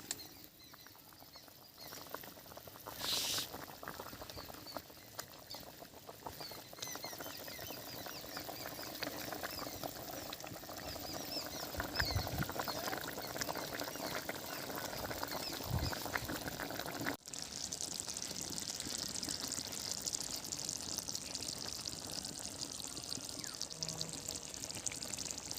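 Fried tilapia pieces dropped into raw mustard oil in a pan for a curry, sizzling and crackling steadily throughout, with a brief shift in texture partway through and no talking.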